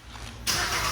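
A new XPS model car's engine started by remote key: a quiet moment, then an abrupt loud catch into a steady running rumble.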